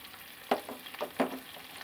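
Chicken cooks on a tawa with a low background sizzle, broken by a few distinct spatula clanks and scrapes at irregular intervals, close and fairly quiet.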